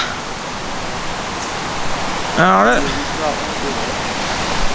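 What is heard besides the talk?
small mountain stream or waterfall flowing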